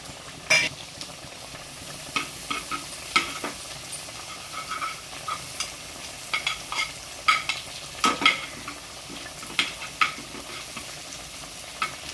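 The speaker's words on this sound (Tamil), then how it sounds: "இந்த பச்சை மிளகாவும் பூண்டும் நல்லா வதக்க வச்சுருங்க" Green chillies and garlic sauté in a pan, a soft steady sizzle and hiss beneath repeated scrapes and clicks of a spoon stirring, fairly quiet and close with no talking.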